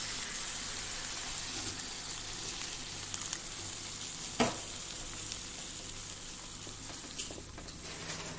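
A dry Goan prawn curry with coconut milk cooks in a pan, giving a steady close sizzle and bubbling with a few brief clinks and stirring knocks.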